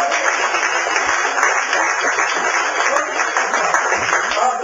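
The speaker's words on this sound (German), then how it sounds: "Applaus!" Crowd applause at an outdoor street mime performance, dense continuous clapping that holds at an even level from start to finish.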